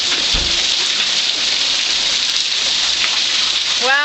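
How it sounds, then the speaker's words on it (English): A torrential rain downpour during a storm in Simi Valley, California, pours down in a loud, dense, continuous hiss, with a brief voice heard near the end. "Wow, torrential downpour."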